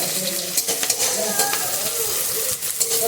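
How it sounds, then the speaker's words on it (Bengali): Green chillies fry in a hot pan with a steady, close sizzle and crackle, broken by occasional stirring scrapes and small pops. "ভালো করে ভেজে নেব"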